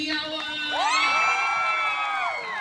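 A live studio audience at a variety show cheers loudly, with high shouts and whoops rising over a steady crowd roar.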